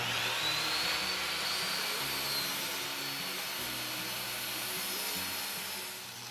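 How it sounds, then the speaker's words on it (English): A belt sander shaves down a scrap wood shelf, giving a steady, loud broadband grinding roar that holds evenly for several seconds, then eases slightly near the end, with no talk over it. "I shaved it down a little bit with the belt sander for a better fit in the suitcase."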